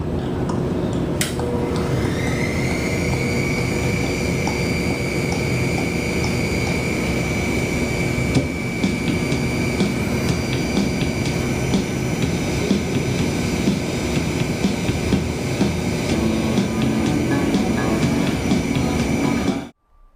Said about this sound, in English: This CNC robot is cutting an opening for one of those power receptacles